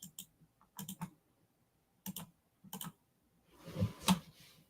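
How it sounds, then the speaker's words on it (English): A computer mouse and keyboard clicked during a live morning stream, sounding as close, sharp clusters of clicks and taps at irregular intervals, with a busier burst of rapid clicking near the end. "Can y'all hear that mouse clicking?"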